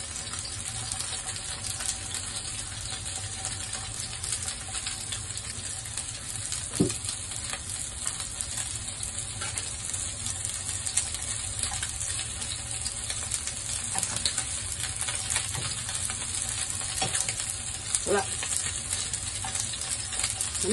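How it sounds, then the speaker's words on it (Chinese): Fish cakes pan-fry until golden on both sides, giving a steady, close sizzle and crackle of hot oil that runs unbroken for the whole stretch, with a couple of faint clinks. "再煎多兩分鐘，煎到佢咧兩邊咧金黃色咧"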